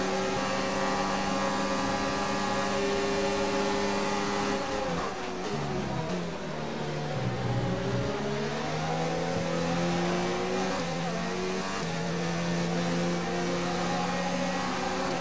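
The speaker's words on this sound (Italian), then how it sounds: "Facciamo rifiatare un po' il motore, signori." A Formula 1 car engine in the F1 2019 racing game at the Spanish circuit, with a steady high-pitched whine that dips and climbs again as gears shift, continuous and close with no talking.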